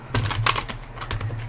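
Quick papery flicks and taps as a tarot card deck is shuffled close by, a short burst of soft crisp clicks.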